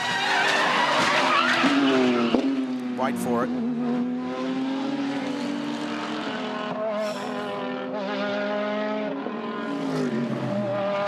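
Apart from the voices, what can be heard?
GT3 race car crashing into a stopped car at high speed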